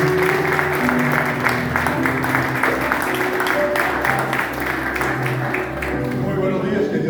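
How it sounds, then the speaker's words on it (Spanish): A church congregation applauds on a Sunday morning as a visiting missionary is welcomed, steady clapping blended with crowd murmur and a sustained musical tone in the background. "Un aplauso en esta mañana."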